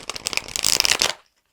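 Oracle cards being drawn and shuffled during a card reading, a quick flurry of crisp riffling and flicking close by that stops abruptly after about a second, leaving silence.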